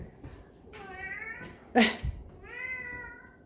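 A pet cat named Oreo whines for food in a kitchen, giving two drawn-out, fairly quiet meows separated by a brief thump, with a single word spoken faintly.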